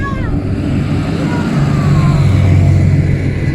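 A tractor drives past outdoors, a steady low engine rumble with a rising and falling whine, loud and close throughout.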